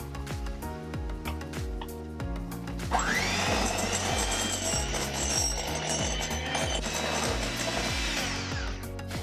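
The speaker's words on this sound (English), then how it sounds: "Using an electric mixer, cream these together for about 1 minute on medium to high speed." An electric mixer on medium to high speed creams peanut butter and butter in a large bowl, a whirring motor hum that starts a few seconds in and continues steadily under rhythmic background music.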